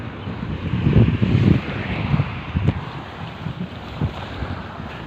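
Wind gusts buffet the microphone on a cloudy beach in Tuen Mun, Hong Kong, rumbling loudly in bursts over a steady hiss of surf, with no talk.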